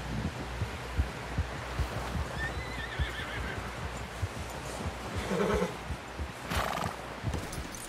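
A horse in Red Dead Redemption 2 gives a loud whinny around the middle, with clip-clopping hooves and a busy game soundscape throughout.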